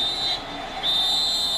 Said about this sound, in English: now we get a whistle on the field